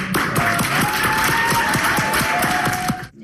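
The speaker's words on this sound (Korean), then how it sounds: "미국 항공우주국 나사의 과학자들이 일제히 환호성을 터뜨립니다" NASA scientists in mission control break into sustained applause and cheering over the Perseverance rover landing on Mars, a dense, steady wash of clapping with a tonal hum underneath before cutting off.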